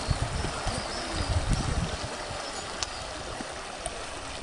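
A mountain stream at Changbaishan flowing steadily, a constant rushing hiss of water with a few soft splashes and gurgles, no voices.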